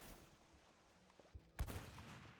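A couple of sharp bursts and pops from game fireworks, sudden and loud against a quiet background, trailing off quickly.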